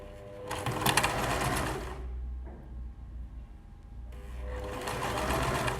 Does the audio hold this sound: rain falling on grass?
no